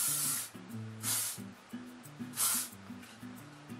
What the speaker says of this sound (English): So kind of spraying it in this direction.